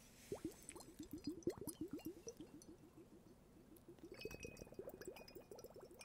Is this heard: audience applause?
no